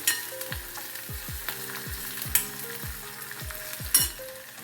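Ginger, garlic, cabbage and peas sizzle steadily in a hot pan for a Diwali festive thali, with a spoon repeatedly scraping and stirring in regular knocks over the continuous frying hiss, no talking.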